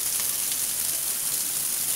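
Hot water pours from a shower in a continuous bright hiss, steady and close, with no talking over it.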